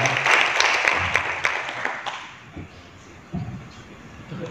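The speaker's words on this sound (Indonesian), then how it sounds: "Tepuk tangan untuk Bupati kita." Audience applause for the regent at a regional working meeting in Kutai Kartanegara, a burst of clapping that is fairly dense at first and then thins and fades into a quieter room.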